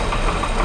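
A 1961 Ford Falcon Delivery engine idling just after starting, a loud, close, steady rumble with a faint rhythmic knock running through the brief moment.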